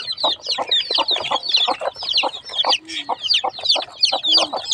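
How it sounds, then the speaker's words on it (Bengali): Baby chickens kept alongside ducklings, a busy chorus of close, high-pitched cheeping and soft clucks in rapid, overlapping bursts that continue without pause. "আর এই হয়েছে মুরগির বাচ্চা।"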